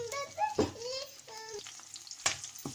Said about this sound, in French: On mélange, on laisse dorer quelques instants, vraiment pas longtemps, même pas une minute les gousses d'ail